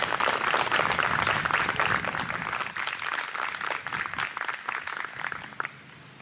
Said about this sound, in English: Please join me in applauding these recipients.